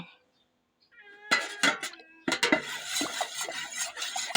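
A cat meows a few times up close, mixed with clinking dishes and a person talking nearby.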